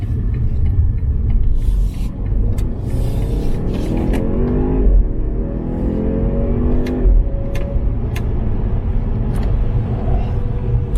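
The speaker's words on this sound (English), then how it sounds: "go ahead and put the foot down on the throttle." A 2021 BMW 530i xDrive in sport mode accelerates hard under full throttle, giving a loud, steady engine rumble with tones that climb as it gains speed. No one speaks.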